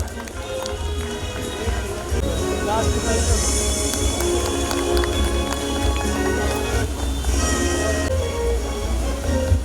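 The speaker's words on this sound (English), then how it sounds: "একবার জোরে হাততালি হওয়া উচিত।" An audience at an awards ceremony in a Kolkata hall applauds steadily, a thick wash of clapping from a crowd, with a sustained musical tone and some voices underneath.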